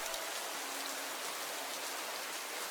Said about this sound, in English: The rain hitting her didn't make anything better.